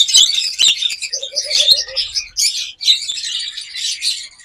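Lutino red-eye Fischer's lovebirds chirp close by in rapid, shrill, overlapping bursts that run the whole time, joined briefly by a soft, quick series of lower cooing notes.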